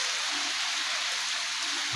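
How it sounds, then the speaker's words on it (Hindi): Rain falls steadily over a village, an even, continuous hiss of drops on surfaces with no voices over it. "गाइस आज हमारे गांव में बारिश हो रही है।"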